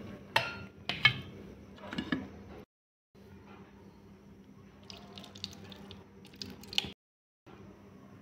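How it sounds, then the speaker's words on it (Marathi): Water is poured over a Krishna idol during an abhishek ritual. Several close splashing pours come in bursts, separated by brief silent gaps, with a steady low room hum underneath. "आपण पाण्याने अभिषेक केला."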